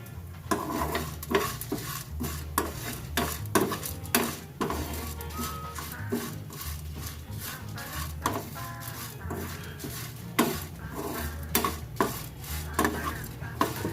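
Kashmiri red chillies frying in a pan at home, with a soft sizzle under repeated sharp clinks and scrapes of a spoon stirring against the metal, and low rhythmic thumps running beneath throughout.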